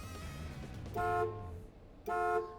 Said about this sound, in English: That's how you honk the horn, is why it's called a rim blow.